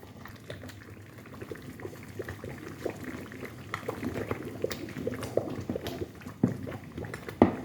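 A pot of Somali halwa sweet, cooked with butter or oil, bubbles and simmers steadily, a thick close boiling texture with occasional louder pops and splutters building toward the end.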